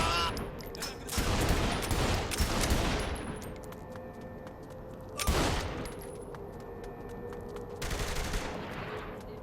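Bursts of automatic gunfire in Saints Row The Third on PC, three loud sustained volleys of rapid shots with quieter gaps of background game sound between them.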